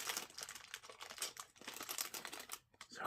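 Dense crinkling and crackling, like plastic or paper being handled close by during a coloring session, runs steadily for about three seconds with a brief pause near the end and no talking.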